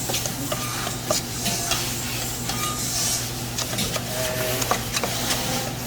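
Fish for frying is mixed with lemon juice in a bowl, giving a busy, close run of wet squelches and soft clicks with small utensil taps, and no talk.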